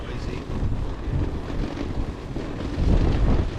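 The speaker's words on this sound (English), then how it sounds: "Bit windy, bit noisy." Cold January wind gusting around a winter camp with a hot tent, roaring steadily against the microphone as a dense, close rumble with no break.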